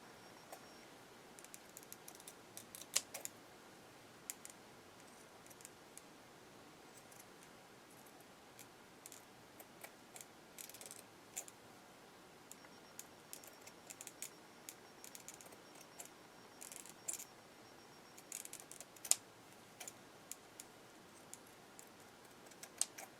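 Paper being cut for a handmade tag panel gives quiet, scattered snips and small clicks against a soft room hush, with no talking.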